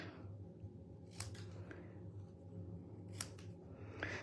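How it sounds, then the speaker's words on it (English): Snips trim the ends of red paper for a card fold, three quiet crisp cuts close by, spaced about a second or two apart over a low background hum. "we're going to trim our ends with our snips"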